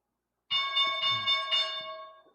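A stock market opening bell rings in several quick clanging strikes, bright and fairly loud, then its metallic tone fades out.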